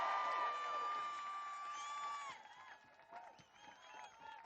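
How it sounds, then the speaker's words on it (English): A crowd at a political rally in Middlesbrough cheers for NHS workers, starting as a loud, sustained roar of voices and whoops that fades into scattered shouts and claps. "let's say a big cheer for all the NHS workers and what they do"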